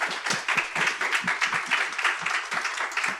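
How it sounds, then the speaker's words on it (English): A round of applause from a conference audience after a business showcase presentation, dense continuous clapping with a steady, even texture throughout. "Give them a round of applause."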